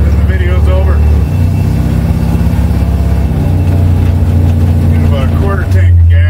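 A car engine drones loudly and steadily from close range, shifting in pitch a few times as speed changes, with a person talking over it.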